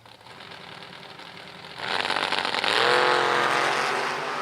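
Heads-up drag race launch with an orange Chevrolet S10 and a second car: engines idle in the lanes, then surge into loud, rising revving as they leave the line, close and roaring.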